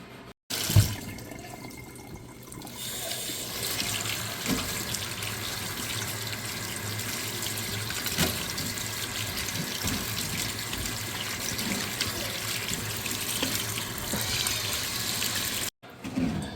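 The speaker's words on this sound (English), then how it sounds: "So yeah, I want to get these rinsed off." Mussels and shrimp rinsed under a running kitchen tap, a steady loud rush of water and splashing in the sink that continues unbroken for most of the time, close up.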